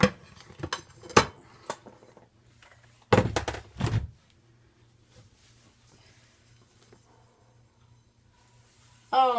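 A rice cooker pot holding a quiche is flipped over, giving a few sharp metallic clanks and thunks early and in a cluster mid-clip, then near quiet with a faint hum.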